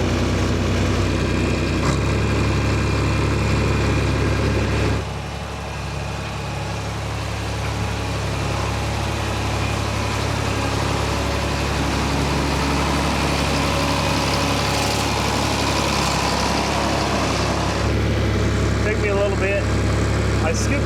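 A farm tractor idles with a steady, low diesel rumble close by for a long stretch, while a person talks over the engine.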